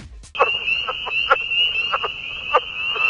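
A leopard frog, a new species found in New York City, gives a series of short, clicking croaks at an uneven pace over a steady high-pitched trill. The calls are close and clear.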